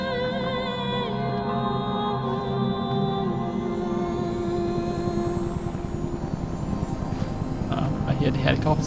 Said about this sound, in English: I hear the helicopter. That's Pagan Min leaving.